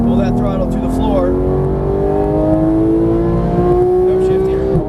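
A Porsche GT3 engine revs hard at full throttle on a track, its pitch climbing steadily through the gear as a driving instructor keeps talking over the loud, continuous engine note.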